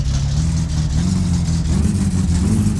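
Car engine in the video game My Summer Car revving steadily, a loud continuous low drone held close for the whole stretch with slight rises in pitch and no speech.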